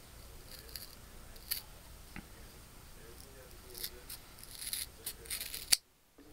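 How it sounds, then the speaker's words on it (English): Scissors snip through leather while a keychain is being made, a series of soft scattered cuts and crisp clicks close to the microphone, growing busier before one sharp final snap. "any pair of scissors will work fine"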